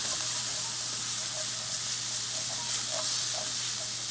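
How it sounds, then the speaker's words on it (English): Garlic frying and browning in a hot pan for broccoli beef stir fry, a steady close sizzle with scattered small pops and crackles throughout, no talking. "I'm gonna put in my garlic. And I'm gonna brown my garlic."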